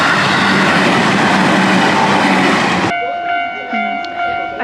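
Train at a station in Kyoto, Japan: loud close rolling rumble for about three seconds cuts off abruptly to quieter station ambience with steady tones and faint clanks.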